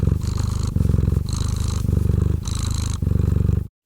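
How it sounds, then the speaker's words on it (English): A cat purrs close and loud in a rhythmic rumble, rising and falling with each breath in several even cycles before cutting off abruptly. "It's the sound of... a cat purring"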